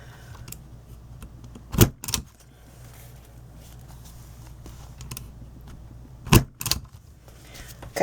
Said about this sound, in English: Line it up in your hole puncher